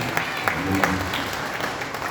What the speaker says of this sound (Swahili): tupigia makofi mazuri kwa sababu wako pamoja nasi